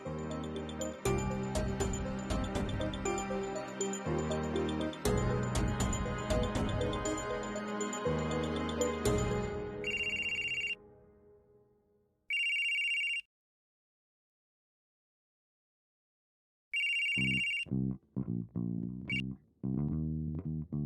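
Loud dramatic music gives way to an outgoing phone call's ringing, with short bursts of electronic ringback tone separated by silent gaps, before the music returns near the end.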